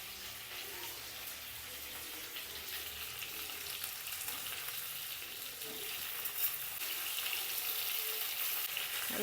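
Kohlrabi frying in hot oil in a pan for a fish curry, giving off a steady, soft sizzling hiss from start to finish with only faint background movement.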